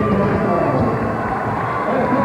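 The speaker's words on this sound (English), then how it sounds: "And as you can see, a great crowd on hand." A large crowd at a 1997 high school district quarterfinal football game between Hazleton Area and Wyoming Valley West at Wilkes University, a steady roar of cheering and chatter heard from a distance beneath a commentator's voice.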